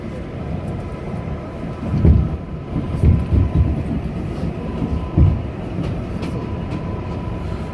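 An R62A subway train runs on the 7 express line in Queens, giving a steady low rumble with rhythmic clatter and a few louder thumps of wheels over joints, close and continuous with no voices.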